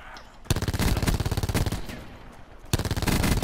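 Automatic gunfire in Call of Duty Blackout, loud rapid bursts of rattling shots up close, a long sustained burst followed by a second burst after a short gap.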